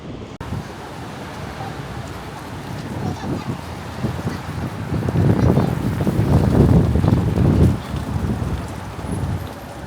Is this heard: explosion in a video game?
no